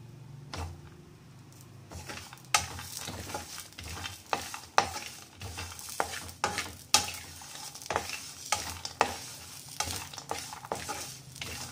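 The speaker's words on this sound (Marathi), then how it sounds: "असं छान भाजून घ्यायचं याला." Sesame seeds and curry leaves roasting in a pan for stuffed bitter gourd give a close, steady crackle and sizzle, punctuated by repeated sharp scraping taps of stirring throughout.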